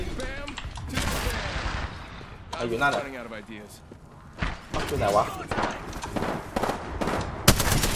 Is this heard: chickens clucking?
no